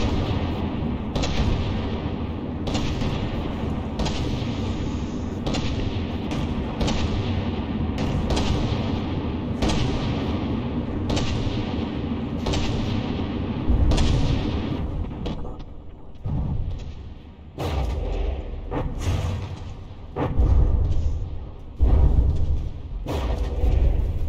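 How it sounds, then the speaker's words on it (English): Naval gun turret fire in a battleship video game sounds as heavy booming shots, one after another, with long rumbling tails over a dense low battle roar, loud and continuous. "Looks like only a single barrel is still firing on this turret."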